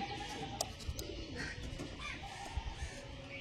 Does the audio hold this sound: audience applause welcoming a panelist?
no